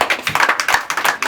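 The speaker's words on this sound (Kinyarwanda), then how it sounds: "umwumvira amashyi" Guests at an engagement ceremony clap in quick, rhythmic bursts close by, with voices mixed in beneath the claps.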